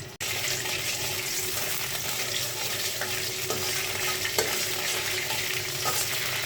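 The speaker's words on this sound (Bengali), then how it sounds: "গোটা জিরা দিয়ে দিলাম তেলটা গরম হয়ে গেছে গোটা জিরাগুলো দিয়ে দিলাম" Whole cumin seeds frying in hot oil, a loud continuous hiss and crackle close by, with a sharp clink at the start and a few faint taps from the pan.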